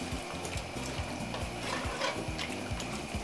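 Spoon stirring a pot of meat simmering with pureed spices, water, salt and a bouillon cube, giving a steady wet bubbling and sizzling texture with soft scraping strokes, close and continuous with no talking.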